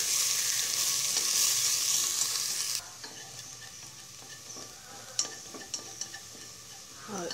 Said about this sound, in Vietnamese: Rồi dầu cũng đã nóng, mình cho phần hành tím với tỏi với hành tây vào hết luôn các bạn.